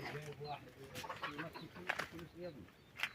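Chickens cluck on a farm near Sefrou and Ifrane in Morocco, a faint, steady scatter of soft clucks and short calls, with voices murmuring alongside.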